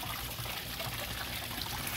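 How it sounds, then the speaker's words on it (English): Flush water drains steadily out of a Yamaha outboard motor after a water-and-vinegar engine flush, a continuous close splashing trickle with no talking. "I'll cut the pump off. Let that water run out."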